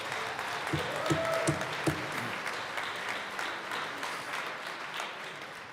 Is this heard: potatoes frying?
no